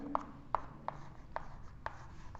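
A pen writes on paper up close in short, evenly spaced scratchy strokes, about six quick scrapes in a row against a quiet background.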